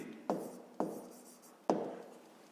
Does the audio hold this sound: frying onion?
no